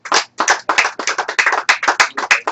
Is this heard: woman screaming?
no